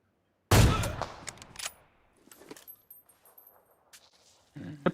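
AWM sniper rifle in the mobile game PUBG Mobile: one loud, booming shot with a long echoing tail, followed by faint clicks and clatter of the bolt and casing, then a brief low noise near the end.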